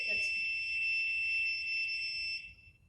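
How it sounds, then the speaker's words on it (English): A steady, shrill electronic buzzer tone from a water level alarm sounds continuously for a couple of seconds as its sensors touch water, then cuts off, with a low hum underneath. "we immerse these sensors to the water, and our buzzer sound and the LED glow"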